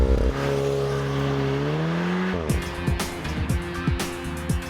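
A 2018 Volkswagen Golf R with all-wheel drive and a dual-clutch automatic launches hard, its engine note climbing steadily before sharp upshifts break the pull into a series of rising surges, loud and close with no talking.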